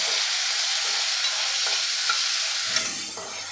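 Onion and chopped tomato sauté in a pan, a steady loud sizzle with occasional soft stirring scrapes, close and alone, easing slightly near the end.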